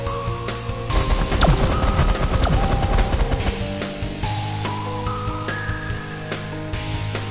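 A minigun fires in the video game The Last Federation, a rapid continuous rattle of shots with crashing impacts, loud for a few seconds, then tapering into lighter bursts and electronic tones; no talking.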